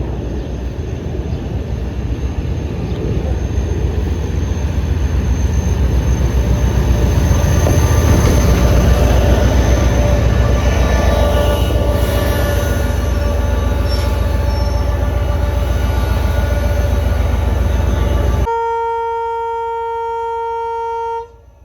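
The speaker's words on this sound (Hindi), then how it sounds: "अब हज़ारा एक्सप्रेस HGMU 30R 8209 के साथ 8209 के साथ पहुंच रही है ड्रिग रोड रेलवे स्टेशन पर" The Hazara Express, hauled by HGMU 30R locomotive 8209, arrives at Drigh Road railway station with a loud steady rolling rumble and screech of wheels, ending abruptly and followed by a quieter tonal hum.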